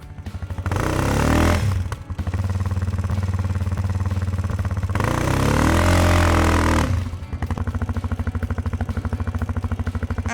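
A Sharmax QJ Motors Force 800 ATV in rear-wheel drive spins its wheels in snow, its engine roaring loud and close in two long revving surges with brief dips between, no talk.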